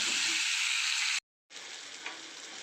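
Tomato and onion being stirred and fried in a pan for upma, a loud continuous sizzle that cuts out briefly and then resumes with a small scrape, no talking.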